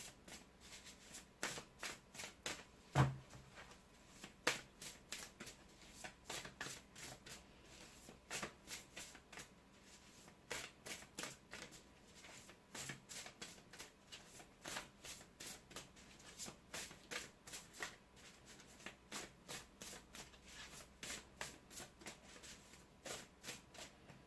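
Tarot cards are shuffled close by in a steady run of crisp riffling and rustling bursts that repeat for the whole stretch, with no voices over them.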